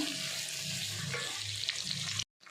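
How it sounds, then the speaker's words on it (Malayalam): Chopped onions sizzle steadily in a pan while being sautéed for a chicken curry, a continuous close frying hiss that cuts off abruptly near the end. "2 സബോള അരിഞ്ഞത് ഇത് നല്ലോണം വഴറ്റി എടുക്കാം കേട്ടോ"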